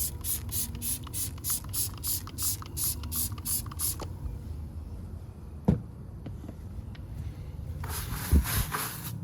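A trigger spray bottle of cleaner pumped in quick, even bursts onto a car tire, about a dozen in a row, then a pause and another short run of sprays close by.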